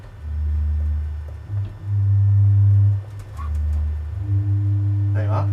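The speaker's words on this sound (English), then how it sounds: "this is a quint pipe" Quint pipe stop on an OPUS I Hauptwerk virtual pipe organ, sounding a G below C: sustained low organ tones held in three separate notes with short breaks between, loud and steady, with no talk over them.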